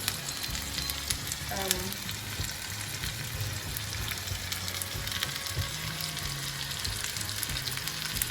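Steady sizzling of spinach and prawns frying in a pan, a constant crackling hiss with small pops throughout, fairly close.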